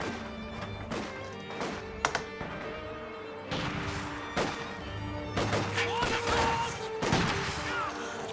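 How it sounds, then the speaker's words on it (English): Battlefield sounds in a Company of Heroes style strategy match: scattered thuds and sharp impacts from mortar shells landing, medium distance, spaced irregularly over a low rumbling background, without voices. "Guards getting some mortar drops in"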